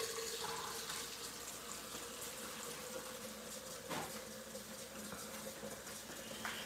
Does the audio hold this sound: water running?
yes